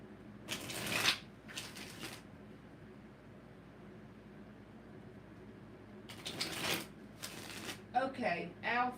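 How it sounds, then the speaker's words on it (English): Tarot cards being shuffled by hand, two short riffling bursts near the start and two more later, crisp and close, followed by a brief voice at the end. "3 shuffles for Emma"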